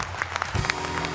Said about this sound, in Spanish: Este aplauso es para la producción